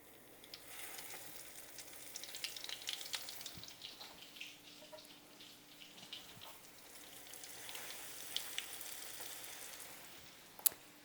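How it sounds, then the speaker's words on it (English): Chicken pieces frying in bubbling oil in a small skillet for chicken Marsala, a soft continuous crackle and sizzle with scattered pops, faint and fairly close, no talking. "I can hear my oil bubbling."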